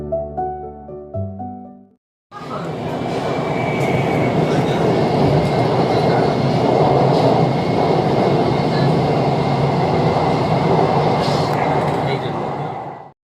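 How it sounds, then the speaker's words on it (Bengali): A metro train passes close by, its rumbling, clattering roar bursting in after a brief tonal chime and then holding loud and steady before easing off at the end. "সেখানে একটা আস্ত মেট্রো ট্রেন যাচ্ছে"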